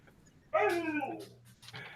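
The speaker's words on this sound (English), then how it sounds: "Uh-oh, I hear a dog." A dog at home gives a single close whimpering yip that trails into a whine, then a short faint sound follows, over a low background hum.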